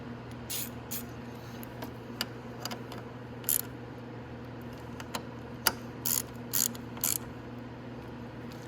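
A ratchet tightens two bolts while an ignition switch is replaced on a Venom X18 50cc or X18R 200cc automatic motorcycle, giving sparse, short clicking bursts over a low steady hum.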